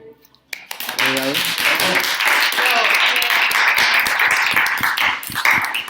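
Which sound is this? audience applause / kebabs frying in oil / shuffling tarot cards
audience applause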